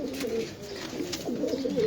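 Pigeons at a pigeon farm in Mirpur give soft, repeated low coos close by, overlapping over a steady background murmur, with no one speaking.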